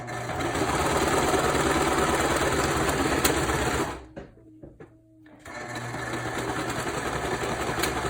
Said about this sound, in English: I'm just gonna serge the opening together.